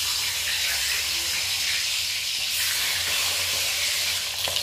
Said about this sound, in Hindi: कढ़ाई गरम है और तेल भी गरम है, तो चलिए हम फ्राई करेंगे।